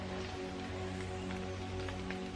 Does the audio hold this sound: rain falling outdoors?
yes